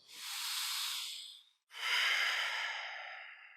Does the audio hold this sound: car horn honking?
no